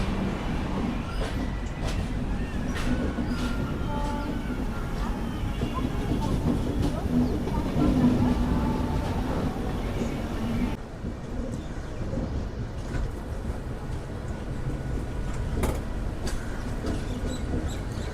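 Tamil Nadu Express passenger train running steadily on rails between Vijayawada Junction and Chennai Central, a continuous loud rumble with faint clattering from the wagons, carrying on throughout with a brief dip partway.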